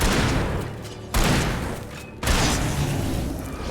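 Heavy gunfire and booming shots in the PC game Alan Wake, with two sharp, loud blasts about a second apart over a dense, continuous rumble of combat noise.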